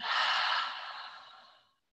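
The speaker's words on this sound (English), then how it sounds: "Make a ha sound when you breathe out" A single long exhaled breath with an open ha quality during a youth yoga session, close and fairly loud, starting strong and fading out over nearly two seconds, followed by silence.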